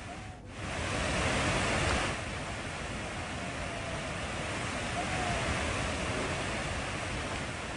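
The Kundi waterfall stream near Nara village in Lakhpat, Kutch, rushes with a dense, steady roar of falling water after heavy rain, with no voices.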